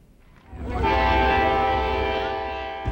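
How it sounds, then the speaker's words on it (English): A train horn blares loud and sustained for a couple of seconds over the deep rumble of a passing train. "This is the train that carried the President and Mrs. Clinton on their 1996 Whistle Stop campaign tour"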